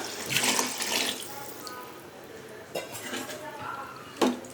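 Water is poured from a glass onto rice in a pot while making prawn dum biryani, giving a few splashy bursts with light clinks of kitchenware; a voice talks faintly underneath.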